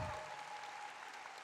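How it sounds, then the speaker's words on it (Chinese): Steady, dense applause from a hall audience at a hairdressing showcase, heard at moderate distance throughout. "再给我们今天12个展演单位一个最热烈的掌声。"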